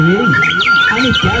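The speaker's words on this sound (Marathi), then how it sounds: "पक्ष्यांचा किलबिलाट" Birds chirp and twitter in short bursts behind a speaking voice, with steady background noise throughout.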